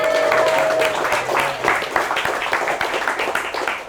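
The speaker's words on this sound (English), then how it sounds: "so round of applause to him." A small team in a company meeting claps for a colleague, a modest round of applause with individual claps audible, fairly close and tapering off toward the end.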